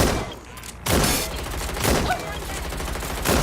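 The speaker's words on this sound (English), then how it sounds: "Gunfire!" Rapid bursts of gunfire crackle in repeated volleys, loud and close, with brief dips between barrages and a game-like mix around them, in Watch Dogs: Legion on PC.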